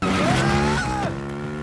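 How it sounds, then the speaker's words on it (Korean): A motorcycle in a film chase speeds off, its engine revving up in a rising, then falling whine with a tyre screech, loud and close for under two seconds. "이들의 오토바이를 빼서 출발하던 이때"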